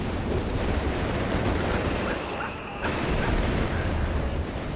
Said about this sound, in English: Mass artillery fire here.